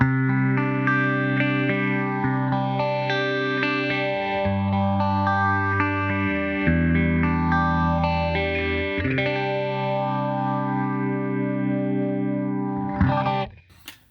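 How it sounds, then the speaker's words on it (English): Sustained electric guitar chords swept by a slow phaser from a Line 6 POD HD500x, the tone rising and falling in long, gentle waves before cutting off abruptly near the end. "This is a real slow speed for the phase."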